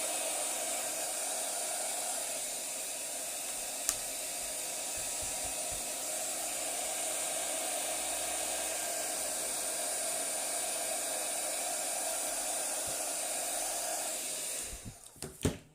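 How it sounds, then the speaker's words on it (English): A heat gun blows over marbled ink on a stamped card, a loud steady hissing roar held for about fifteen seconds before it clicks off at the end. "I'm just going to get my heat gun. Heat that up a little bit."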